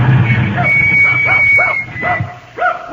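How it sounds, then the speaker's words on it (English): A dog in a farm setting barks in a short run of about five yips with rising pitch, close and fairly loud, with a voice and a steady buzzing tone underneath. "if you'll call off your dog, ma'am"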